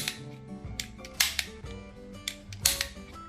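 A modified toy cap gun test-fires a quick series of sharp cracking pops, several close loud shots spaced irregularly over a few seconds with mechanical clicks between them.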